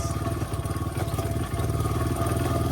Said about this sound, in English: My motorcycle is struggling very much, yes.